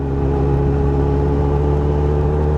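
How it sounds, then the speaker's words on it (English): A Yamaha R1 or Triumph Street Triple motorcycle engine revving hard and steadily, a loud, close, continuous drone with a strong low hum and no talk. "Rev bomb."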